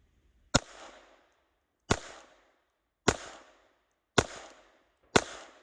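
A Glock 44 .22 pistol fires five sharp, loud shots spaced about a second apart, each with a short decaying echo, with no voices in between.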